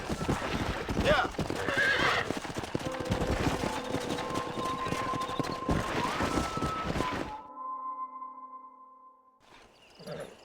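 In the Red Dead Redemption game, horses whinny and hooves clip-clop loudly alongside a steady musical tone, then the sound cuts abruptly to a quieter tone before a brief final burst.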